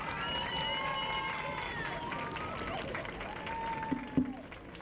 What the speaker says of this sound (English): So please give a round of applause to Mr. Warren D. Shields